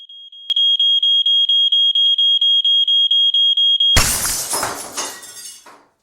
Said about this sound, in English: Finally, no more annoying beeping.